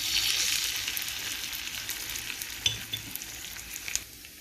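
Garlic-ginger paste sizzles and crackles in hot oil, a loud hiss fading gradually while scattered pops and light stirring sounds continue.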